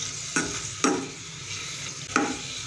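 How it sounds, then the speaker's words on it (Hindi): Chicken frying in a little oil in a pan, a soft continuous sizzle broken by three sharp stirring scrapes, close and fairly quiet with no talking. "इसको हम करेंगे फ्राई।"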